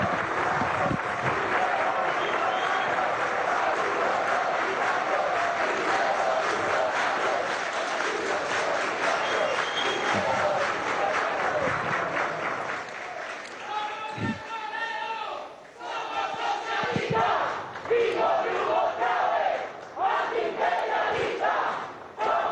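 PDVSA oil workers applauding and cheering the Vietnamese delegation at a meeting with Maduro: a large crowd roaring and clapping loudly and continuously, with rhythmic chanting and a voice over a loudspeaker breaking in toward the end.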